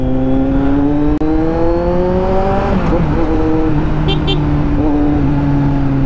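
A big bike motorcycle engine revs up close, its loud steady drone climbing in pitch, easing off and settling back to a lower hum, with a brief sharp click early on.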